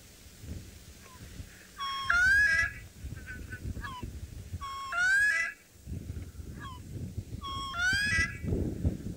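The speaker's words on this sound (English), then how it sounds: "And that is the call of the bronze-winged courser." Strange, nasal bronze-winged courser calls with rising, stepped notes repeat three times at intervals, over a low background rumble outdoors.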